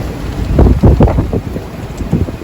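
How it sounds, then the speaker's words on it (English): Squall wind buffets a small old 31-foot sailboat at sea on an Atlantic crossing, loud gusty rumbling and microphone-blasting roar with surging water noise, close and continuous. "Here comes the squall just behind us."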